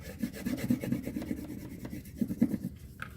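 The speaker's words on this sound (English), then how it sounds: "I'm going to burnish it" Trimmed paper for a handmade gift tag is burnished by hand, producing close, rapid rubbing strokes in two quick bursts with a short pause between them.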